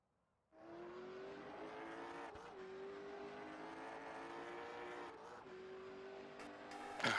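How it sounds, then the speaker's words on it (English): A race car in a late-model stock car racing game pulls onto the track. After a short silence the engine starts up and drones steadily at a fairly even pitch, with small shifts and a sharp burst at the end. "Last car coming out on the track"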